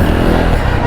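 A motorcycle fitted with a 60 piston kit gives a loud, close, continuous engine roar across a brief moment, with no clear rise or fall in pitch.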